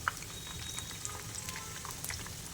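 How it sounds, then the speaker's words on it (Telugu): Kajjikayalu, sweet dumplings, frying in hot oil in a kadai, giving a steady soft sizzle with scattered small pops and crackles throughout. "వీటిని ఇలా కలుపుకుంటూ 2 సైడ్స్ ఫ్రై చేసుకోవాలండి"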